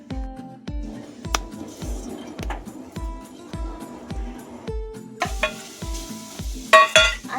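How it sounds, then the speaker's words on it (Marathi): Jaggery stirred in a kadai for puffed-rice laddus, the spoon scraping the pan in a steady rhythm of close, crisp strokes roughly every half second, with a faint sizzle beneath. "पहिल्यांदा कढईमध्ये गूळ टाकून घ्यायचा."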